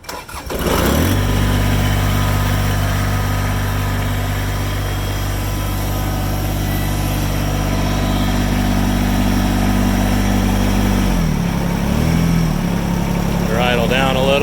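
A Kubota BX2660 four-wheel-drive compact tractor cranks and catches, then settles into a loud, steady diesel idle close by. Near the end the engine note drops as it is throttled down, and a voice briefly cuts in.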